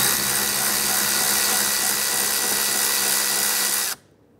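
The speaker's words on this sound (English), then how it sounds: "Go ahead and remove the mounting bolt." Loud, continuous whir of a power tool backing out the mounting bolt on the passenger side rear view mirror of a 2010-2016 Cadillac SRX, holding steady for about four seconds before stopping abruptly.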